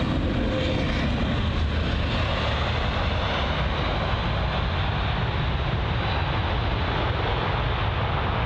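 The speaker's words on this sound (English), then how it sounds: "this is going to be the American Airlines 777-200ER, registered November 785 Alpha November, arriving from Charlotte" An American Airlines Boeing 777-200ER airliner arriving at London Heathrow produces a loud, steady, broadband jet roar that holds without letup throughout, with no voices.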